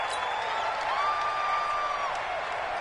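Crowd roar filling a stadium in an American football video game on PS4, a steady broadband wash of cheering with no clear breaks, loud and sustained for the whole stretch as home fans disrupt the snap count.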